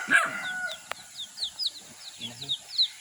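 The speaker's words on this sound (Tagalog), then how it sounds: "Ang inahing manok." A mother hen clucks in short, scattered calls at moderate distance, with a few higher chirps from chicks and a brief low voice partway through.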